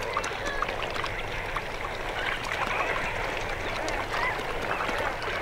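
Flamingos call in thousands at a volcanic soda lake, a dense continuous chorus of honking and gabbling with water sounds beneath, steady and fairly loud throughout.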